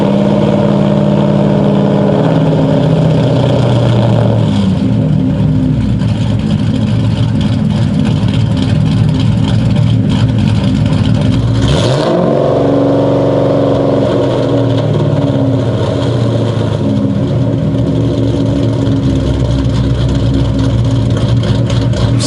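A Ford Mustang GT V8 with a hanging-RPM idle fault cranks and fires up close by, then idles loudly with a steady rumble that wavers and surges partway through.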